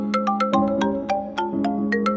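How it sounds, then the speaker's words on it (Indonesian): Phone ringtone from an Indonesian animated film, a bright melodic series of plucked electronic tones in a quick repeating pattern, clear and close with no talking. "Bentar ya, gue angkat telepon dulu."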